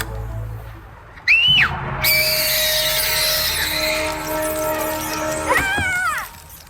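A shrill, wavering scream in the King's Quest Chapter 2 game rises sharply, breaks off, then returns as a long sustained cry before a final short wail, loud and close.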